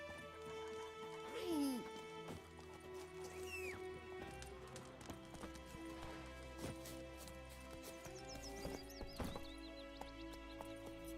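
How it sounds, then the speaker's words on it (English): Horse galloping in The Witcher 3 on PC, rhythmic hoof clip-clops with a neigh near the start, under game ambience, music and occasional voices. "Run, Roach"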